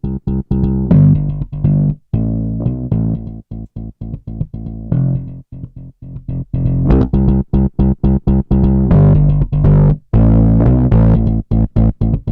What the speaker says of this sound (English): it's a nice saturation plugin